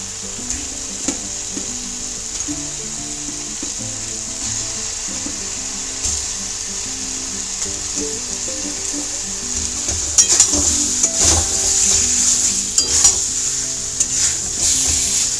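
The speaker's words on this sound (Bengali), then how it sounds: "আলুগুলোর সাথে মশলাটাকে ভালো করে মিশিয়ে নিলাম" Potatoes frying in oil as they are stirred and mixed with spices, a steady sizzle with scraping and utensil clatter growing louder toward the end, no talk.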